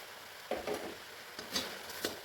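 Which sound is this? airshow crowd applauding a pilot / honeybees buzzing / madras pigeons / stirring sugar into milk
stirring sugar into milk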